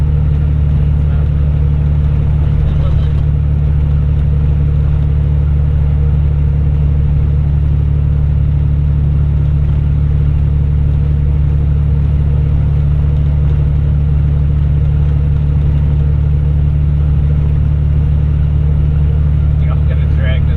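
A heavy truck's diesel engine labours up a big hill under load at 45 pounds of boost, a loud, constant low drone that holds steady and close for the whole stretch.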